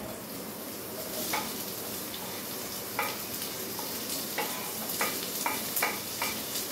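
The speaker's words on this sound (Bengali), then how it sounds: "জিরেটা যখন একটু ক্র্যাকল করবে তখন এর মধ্যে আমি দিয়ে দেব পেঁয়াজগুলো।" Whole cumin seeds crackle and sizzle in hot oil, with steady frying hiss and several sharp pops spread through the later part, then a livelier burst as onions go into the pan; no talking.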